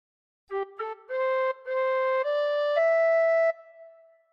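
Tin whistle plays a slow phrase of the hymn Be Thou My Vision, a few clear, steady notes stepping upward, each held longer than the last, loud and close with no voice.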